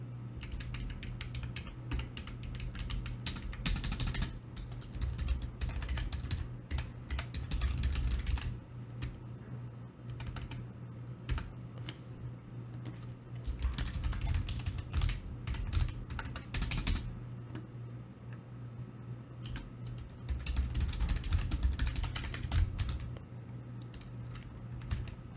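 Code is typed on a computer keyboard in rapid bursts of clicking keystrokes, separated by short pauses, close and clear throughout.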